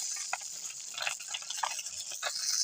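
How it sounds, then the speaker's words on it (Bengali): Pieces of a 2 kg silver carp fry in a pan with a soft background sizzle, broken by scattered light scrapes and taps of a spatula at a moderate distance. "এই যে মাছ ভাজা হয়ে গেছে এবার মা তুলে নিচ্ছে"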